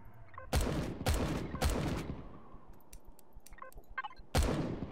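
Automated turrets in Empyrion Galactic Survival open up in loud, close bursts of rapid fire, three back-to-back volleys and then one more after a short pause, with faint clicking in between.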